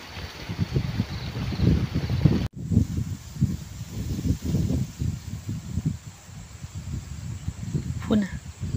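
Cold wind blows outdoors across open rural farmland, gusting in close, continuous rumbling buffets against the microphone with one brief dropout partway through.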